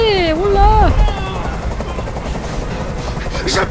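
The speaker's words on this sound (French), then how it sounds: "Fais dégager cet hélicoptère, maintenant." Helicopter in the video game Detroit Become Human, a steady loud rotor rumble under a raised voice speaking, continuing throughout.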